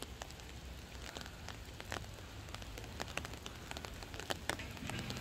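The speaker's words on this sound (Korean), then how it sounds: "근데 막 천둥번개치고 비가 와요." Rain falls steadily throughout in a spring shower on a sunny day with thunder and lightning, a continuous patter with scattered sharper drops and crackles close by, no talking.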